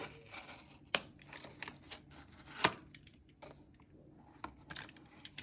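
Scissors cutting paper, a few soft sparse snips and rustles with a couple of sharper clacks, faint and close.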